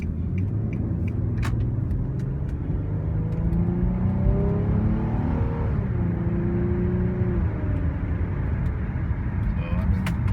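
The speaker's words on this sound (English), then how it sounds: "Maybe I'll give just a little bit of gas here for you." A 2003 Infiniti G35 engine rises in pitch as gas is applied, its rumbling drone heard from inside the car over steady road noise.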